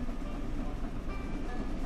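A train passes alongside in Train Sim World 6 on the Great Western line, a steady, dense rumble with faint rail noise that holds evenly throughout, moderately quiet and with no talk over it.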